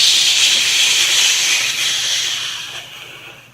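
A loud, steady hiss of steam venting from a train's safety valve, broad and bright, holding level for a few seconds before slowly fading away.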